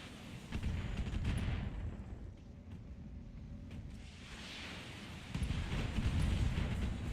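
Heavy mech weapon fire in the Battletech game, a sustained rumbling barrage of booms that eases in the middle and swells again near the end, fairly faint overall.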